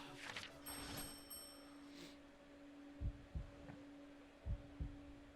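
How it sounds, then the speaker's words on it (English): Heartbeat sound effect in Yakuza: Like a Dragon, low thumping double beats repeated a few times over a steady electronic hum, with faint chatter early on. "The heartbeat."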